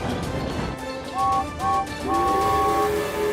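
Cartoon steam engine rattling along the rails with rhythmic clanking chuffs, then short tonal whistle toots rising over the rumble, close and fairly loud.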